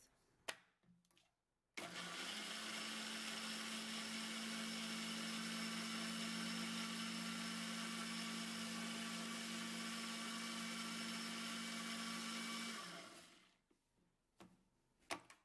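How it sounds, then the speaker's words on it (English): A countertop blender whirs loudly and steadily for about eleven seconds while blending ingredients for a health drink, switching on abruptly and winding down at the end, with faint handling noises around it. "Now we're going to blend it."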